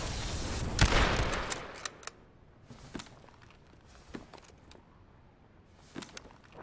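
Gunshots ring out in the video game H1Z1: one loud burst up front, then scattered single cracks at intervals, with faint clicks and footsteps in between.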